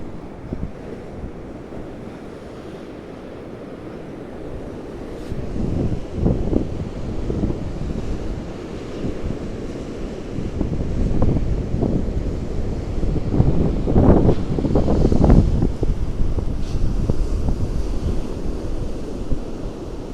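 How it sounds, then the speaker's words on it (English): Strong storm wind buffets the microphone along a seaside promenade as huge waves crash and surge, a loud continuous roar with heavy rumbling swells that builds toward the end. "Hope you can hear me okay over the wind"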